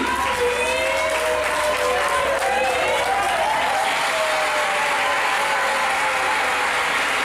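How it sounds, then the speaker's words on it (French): Crowd applause and cheering at a customary wedding ceremony, a steady wash of clapping held for several seconds, with voices calling out and sustained ululating cries rising above it. "S'il vous plaît, applaudissez aussi pour lui qui a l'honneur aussi."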